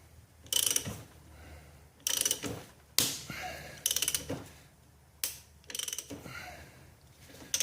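Plastic air seating popping as a front axle shaft u-joint is pressed in on a Dodge Ram 2500/3500 6.7 Cummins: a series of sharp, loud cracking pops, several in quick clusters, with creaking press noise between them and no talk.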